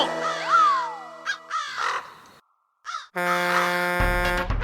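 Cartoon crows caw in a loud, harsh, exaggerated series, with several bursts separated by short gaps and a dense chorus of caws near the end.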